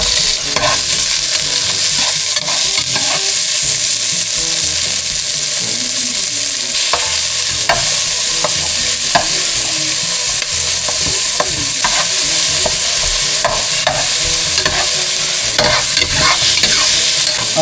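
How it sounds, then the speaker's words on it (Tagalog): Tomatoes sautéing in cooking oil in a pan, a loud, dense, unbroken sizzle with regular stirring clicks and scrapes scattered through it, close up and with no voices. "bali gigisa lang po natin yung kamatis"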